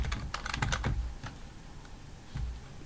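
Quick bursts of keystrokes on a computer keyboard, clustered clicks in the first second, then a few sparse taps and a short final flurry, close and fairly quiet with no voices.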